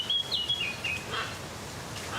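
Birds chirp and call in a large open-air aviary at a bird park, with a few thin high tweets and short trills over a steady wash of distant bird chatter and ambient background.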